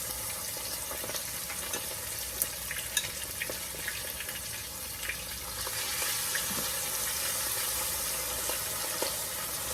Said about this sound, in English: I'm getting ready to start putting my drumsticks in the grease